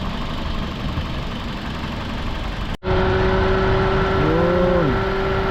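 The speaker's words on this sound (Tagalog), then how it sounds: "napakatahimik po ng makina mga bossing." A Toyota Altis engine idling quietly and smoothly after a repair, a steady low hum with a faint tonal whine that begins abruptly and holds evenly, close by, with no talking.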